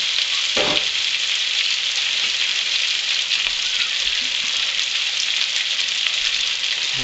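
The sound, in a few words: morel mushrooms frying in hot butter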